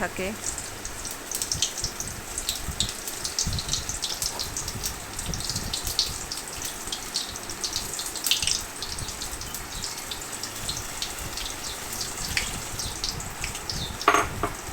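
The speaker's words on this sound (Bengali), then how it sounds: "একটু হালকা আঁচ দিয়ে ঠিক করে ভাজতে হয় যাতে ভেতরে কাঁচা না" Food fries gently in a pan over low heat, a soft continuous sizzle with faint crackles running steadily throughout at moderate closeness, occasionally accompanied by a quiet voice.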